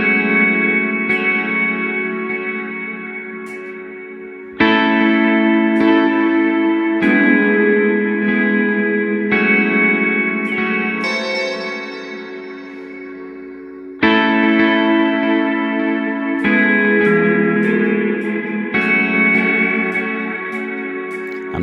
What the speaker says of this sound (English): Now I'm going to manipulate that quarter note delay.